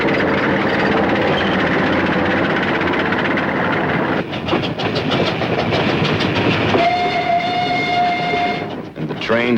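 Wartime trains loaded with damaged equipment roll steadily along rails, a continuous loud rumble with clacking wheels and a sustained horn or whistle tone toward the end.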